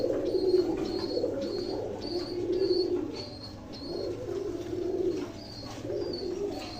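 A pair of domestic pigeons coo close by in repeated soft, throaty rolling phrases, rising and falling in waves, with faint chirps overhead.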